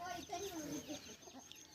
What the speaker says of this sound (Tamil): எந்த கோழியை